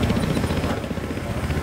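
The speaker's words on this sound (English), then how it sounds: "Oh, we got another chopper." Helicopter rotor thumping in Battlefield Hardline, a steady, dense low churn sustained throughout at fairly close range, with faint game noise mixed in.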